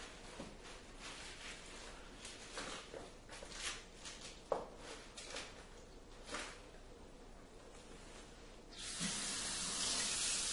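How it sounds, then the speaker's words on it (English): Tap water running into a bowl to wash lettuce, a steady hissing splash with scattered clinks, growing louder and fuller near the end as the flow strengthens. "One would then fill the bowl with water and some soap."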